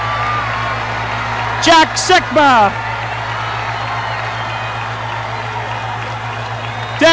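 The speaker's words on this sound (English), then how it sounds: "Listen to this crowd." A large crowd cheers and roars steadily as the 1979 Seattle SuperSonics arrive with the championship trophy, with a few loud whistles cutting through and a commentator talking over the din.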